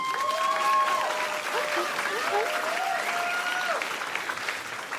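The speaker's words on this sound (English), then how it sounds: "Applaud if you believe time is money." Audience applause at a stand-up comedy show, a warm wash of many hands clapping with some cheers and voices mixed in, steady for several seconds then tapering.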